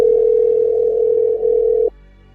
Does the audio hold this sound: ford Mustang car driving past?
no